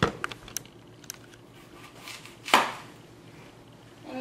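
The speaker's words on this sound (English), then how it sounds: "So now we will cut this apple into small slices." A knife cuts an apple into small slices on a cutting board, giving a few soft taps and one firmer chop near the middle against a quiet kitchen background.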